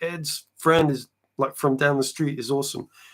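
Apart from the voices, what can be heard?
None of the usual background noises is heard.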